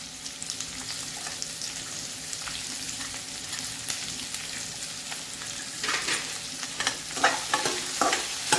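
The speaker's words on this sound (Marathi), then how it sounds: "आता आपल्याला मोठा गॅस करून कांदा पूर्णपणे लालसर भाजून घ्यायचा." Sliced onion fries in oil with a pinch of salt over a high gas flame, a constant soft sizzle that grows louder and crackly near the end, with a spatula scraping and stirring now and then.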